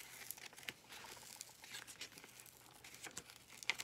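Rhinestone transfer tape being peeled away at an angle, a soft, continuous crinkling and tearing rustle with faint crackles throughout, close and quiet, with no voices.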